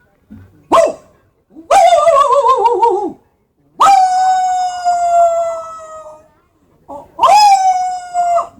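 A voice imitates a dog howling: three drawn-out, wavering howls with pauses between them, loud and close, with no other sound behind them.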